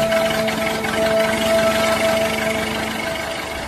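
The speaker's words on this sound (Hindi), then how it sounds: "बाहर आकर गुल्ली गाड़ी स्टार्ट करता है" A cartoon car engine runs with a steady mechanical hum and rattle, humming tones above it, loud and unbroken for the whole stretch.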